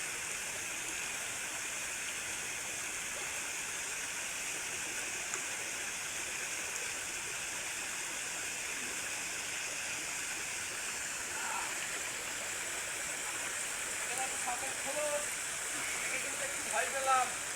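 A mountain waterfall gives off a steady, even hiss of falling water with no breaks, and a few faint chirps come through near the end.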